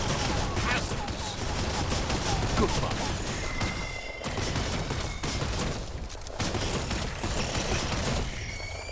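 Dense, continuous volleys of video game gunfire, rapid overlapping shots and bursts crackling loudly through the whole stretch with scarcely a pause.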